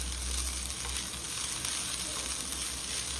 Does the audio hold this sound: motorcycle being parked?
no